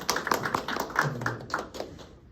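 A congregation applauding in a church hall during a military chaplain commissioning service, a short burst of scattered clapping that fades out after about two seconds, moderately close.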